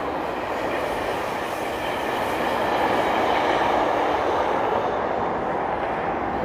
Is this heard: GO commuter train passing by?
yes